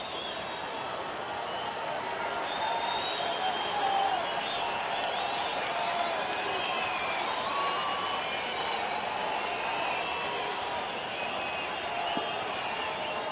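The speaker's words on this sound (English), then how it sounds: "Crowd getting involved." A baseball crowd at Coors Field roars steadily through the 7th inning of a Dodgers–Rockies game, a dense, continuous wash of cheering and clapping with no lulls.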